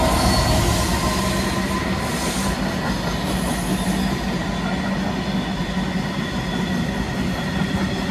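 A London Northwestern Railway train passes close by with a loud, continuous rumble of wheels on rail and a thin squeal riding on top throughout.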